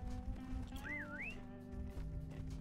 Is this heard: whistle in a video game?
yes